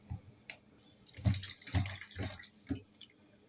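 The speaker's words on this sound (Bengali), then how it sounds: "চাপাগুলোকে ভালোভাবে ধুয়ে নিলাম" Compressed dried fish, chepa shutki, being washed in water: a series of uneven splashes and sloshes, close and fairly quiet, with no talking.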